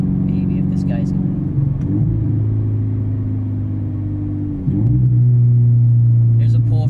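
Subaru BRZ with a Berk Technology exhaust accelerating uphill through the gears, a loud droning engine note that drops at each shift and then rises again, heard from inside the car.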